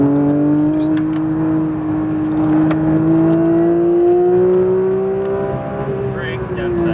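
A Porsche 992 GT3 accelerates hard on the Speed Vegas track, its engine note rising steadily and loudly in one sustained, unbroken pull.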